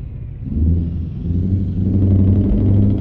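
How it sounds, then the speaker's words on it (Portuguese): A loud, noisy V8 truck engine from Euro Truck Simulator 2 rumbles low and deep, swelling after a moment and holding a heavy drone throughout. "Era o V8 aqui, é um trem, viu? Que é barulhento pra caramba"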